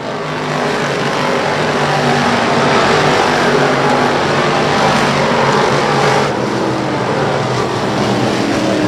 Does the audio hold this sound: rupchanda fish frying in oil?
no